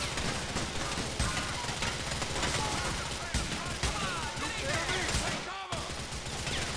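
Guns fire in the video game GTA The Ballad of Gay Tony. Dense, rapid bursts of shots and chattering automatic fire run almost without a break, mixed with voices and a brief drop near the end.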